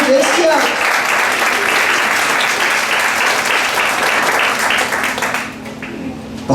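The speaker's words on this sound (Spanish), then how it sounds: "Denle un aplauso al Señor, iglesia." A church congregation breaks into sustained, dense applause that holds steady for several seconds before tapering off, with voices mixed in beneath it.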